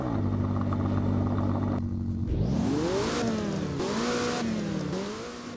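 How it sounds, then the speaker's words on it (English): A McLaren's engine in the Roblox game Driving Empire fires up with a sharp startup burst, then climbs through several loud, rising revs that fall back between pulls. It is close and clear, with no talk. "the startup and the rev is actually pretty decent though"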